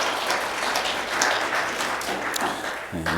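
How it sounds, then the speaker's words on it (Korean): Congregation applauding during a Sunday church service to welcome a newly registered family, a steady dense clapping that fills the room for about three seconds and then fades. "박수로 환영하겠습니다"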